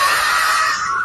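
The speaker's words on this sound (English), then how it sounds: "the camera is dropped as the audience starts screaming" Crowd in the stands at a bull event screaming as the bull charges toward them, a loud, sustained mass of shrill cries filling the whole moment with no break.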